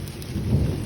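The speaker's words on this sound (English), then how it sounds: "Y'all hear that thunder?" Thunder in a Wakulla County, Florida thunderstorm, a brief low rumble over steady rain.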